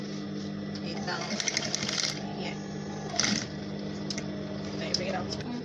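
A sewing machine stitches a zipper flap onto trousers in quick bursts of rapid mechanical clatter with short pauses between runs, heard close up beneath a person speaking.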